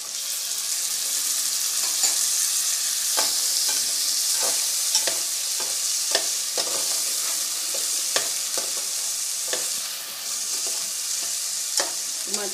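Tomatoes hit a hot pan of potato, pea and carrot sabzi, a steady close sizzle running throughout with repeated clicking stirs and scrapes of a spoon.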